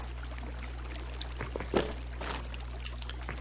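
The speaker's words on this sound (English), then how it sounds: "I hear water!" Water flows steadily in the video game Minecraft with the Botania mod, a soft continuous trickle and splash over a constant low hum, with faint scattered game noises.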